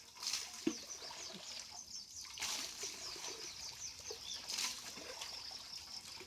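Water is poured over a woman bathing outdoors, coming in uneven splashing dribbles that rise and fall, with a chicken clucking faintly nearby and a sharp knock early on.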